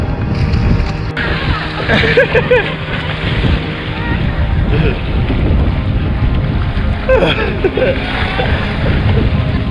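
A Hobie Tandem sailing kayak beats upwind through choppy water with about a one-metre chop; loud, constant wind buffeting and water slapping against the hull, with voices close by.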